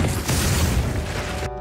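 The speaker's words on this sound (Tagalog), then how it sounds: "ngunit itinarak ito kay Frank dahilan upang ito ay sumabog" A loud, sustained boom from an explosion in a vampire horror film, a broad rumbling blast filling the short clip before cutting off abruptly into a quieter tonal hum.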